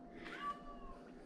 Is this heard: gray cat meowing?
yes